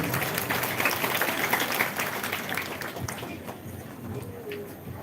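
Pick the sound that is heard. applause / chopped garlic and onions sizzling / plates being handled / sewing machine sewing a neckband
applause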